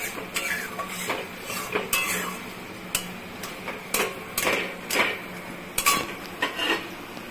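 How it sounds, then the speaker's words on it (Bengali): A lid goes back onto a cooking pot of kochur loti, giving a scattered series of close metallic clinks and taps at uneven intervals, without speech. "আবার ঢাকা দিয়ে দিচ্ছি।"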